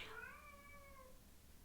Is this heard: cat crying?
yes